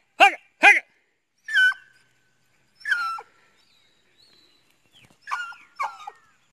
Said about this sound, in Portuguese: Olha a cachorrada aí.